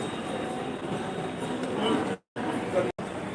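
Train at a railway station in Varanasi: a continuous rumble of rail traffic and platform noise under faint voices, steady and fairly close, broken by two brief dropouts.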